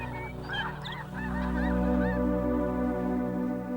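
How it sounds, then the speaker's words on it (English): Several snow geese honk in a loose, overlapping flurry, then grow sparser as a steady low drone takes over. "The snow geese have the same final destination as the caribou"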